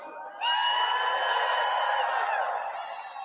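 A crowd at the Harris campaign headquarters at Howard erupts into loud cheering and whooping, a sustained roar of many voices with high-pitched yells that holds steady before easing slightly at the end.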